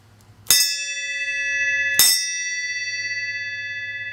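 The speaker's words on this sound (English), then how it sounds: "When the bell tolls, it's over." A metal bell is struck twice about a second and a half apart, each a sharp, bright clang ringing on with a long, shimmering sustain over a low background hum.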